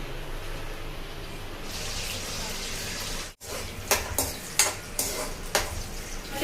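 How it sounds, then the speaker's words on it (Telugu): Green chillies hit hot oil in a pan for Telangana-style country chicken curry, setting off a steady, fairly loud broadband sizzle that drops out briefly before returning with several sharp clatters and pops. "వేడైంది, ఇప్పుడైతే పచ్చిమిరపకాయలు వేసుకుందాం."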